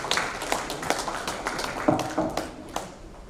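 An audience at a school ed-tech panel discussion claps, a sparse, uneven patter of individual hand claps at close to moderate distance rather than full applause, with no talking.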